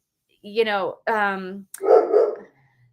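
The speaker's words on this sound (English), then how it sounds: "my dogs are going to bark in the background" Dogs barking close by in a quiet room: two drawn-out howling barks in quick succession, then a rougher, grumbling bark, loud and alone without any talk over them.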